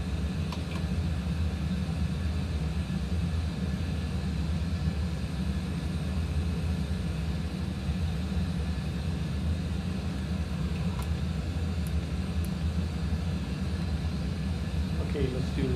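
Engines of a United airliner roar steadily as it climbs out of San Francisco, a loud, constant broadband drone filling the cabin with no pauses for the whole stretch.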